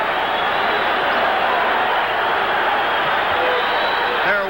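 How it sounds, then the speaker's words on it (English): Boxing arena crowd at the Joey Giardello versus Rubin 'Hurricane' Carter fight, a constant loud roar of cheering, whistling and screaming with no let-up. "Listen to this crowd."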